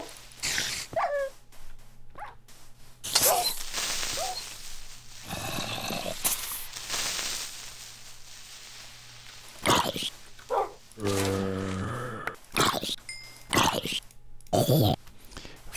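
Minecraft dogs whimpering and barking in short bursts, mixed with game sound effects, with someone talking between and over them.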